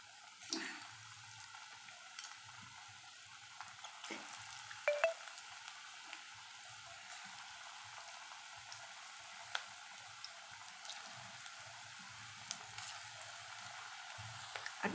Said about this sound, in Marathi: तर उरलेली सगळी भजी आपण तळून घ्यायची आहे